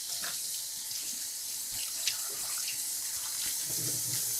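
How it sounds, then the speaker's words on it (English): Tap water runs steadily into a sink to rinse store-bought grape leaves in brine, a continuous close hiss with faint splashes and light handling sounds. "So you'll want to just give them a quick rinse."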